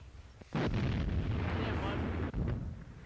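Distant German 88 artillery fire in a snowy wartime setting: a dull booming blast swells into a rolling rumble with wind noise, followed by another thud.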